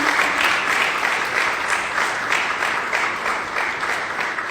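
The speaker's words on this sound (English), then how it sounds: "An applause for the team" An audience claps for a team at a cigar and rum business forum between the Dominican Republic and Jamaica; continuous, moderately loud applause with slight surges, no voices over it.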